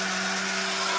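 A mixer grinder whirs steadily, grinding ingredients for ladoo sweets offered to Lord Ganesha, a close, even, high-pitched motor drone with no talking.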